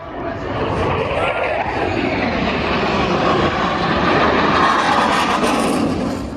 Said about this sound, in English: These Blue Angels jets flying really close to each other.